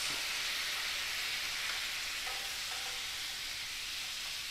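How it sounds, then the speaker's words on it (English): Cod fillets simmer in lemon juice in a frying pan, a soft steady hiss and sizzle heard close and alone. "just let those kind of simmer in that lemon juice"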